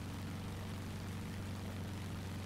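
A War Thunder F4F Hellcat propeller plane engine drones in a steady, low, even roar that holds unchanged throughout, with no voices over it.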